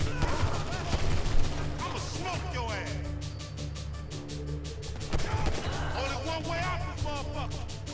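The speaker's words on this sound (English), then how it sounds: "Let's shoot his knees. Shoot his feet." Rapid video game gunfire in GTA V fires at a person in a steady string of close shots, with people talking over and around it throughout.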